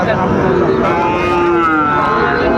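Sahiwal cattle at a busy cattle market, with a steady, drawn-out low moo carrying over continuous crowd noise.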